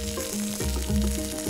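Chicken pieces laid skin side down in a hot pan give a steady close sizzle and frying crackle, with a few soft bumps as pieces settle and no voices.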